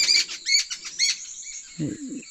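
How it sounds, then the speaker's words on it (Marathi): Several kekate birds call together as a flock, bursts of sharp, high chirping repeating in quick clusters nearby, followed by a short lower squawk. "हा जो केकाटे पक्षी बोलतोय ना, ते केकाटे एकदम ग्रुपने असतात."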